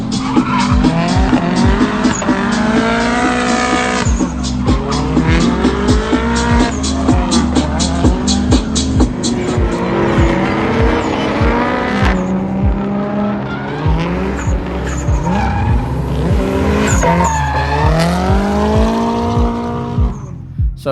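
Rebuilt car being driven hard and drifted, with long continuous tire squeal and skidding over a revving engine that rises and falls repeatedly, loud and close throughout.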